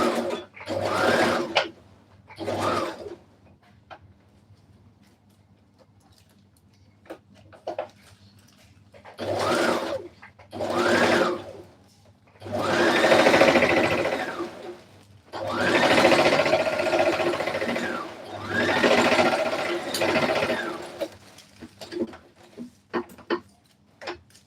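A sewing machine stitches a dress seam in repeated bursts of rapid mechanical whirring and ticking, starting with short runs and moving to longer, louder passages, separated by quiet pauses.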